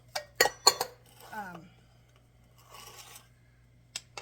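A knife cuts through drained olives for a cheesy lasagna. A few sharp clicks of the blade on the board come close together at first, followed by soft scraping and a brief voice, then one last tap.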